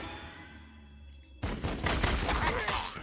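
Gunfire erupts suddenly in the Warhammer 40000: Sanctus Reach video game, a dense burst of rapid shots and impacts that stays loud after a quiet hum with soft voices underneath.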